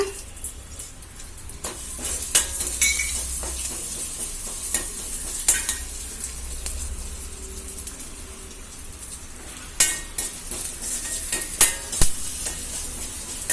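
Urad dal roasting in a pan gives a soft dry sizzle with frequent stirring clicks and scrapes, sharp spatula knocks standing out now and then, close up and without any talking.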